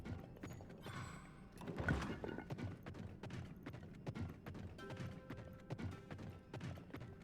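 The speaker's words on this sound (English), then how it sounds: "Oh my god, a horse." A horse's hooves clip-clop steadily in Final Fantasy XIV, a run of quiet, evenly spaced knocks mixed with faint mechanical creaks and clicks and no talking.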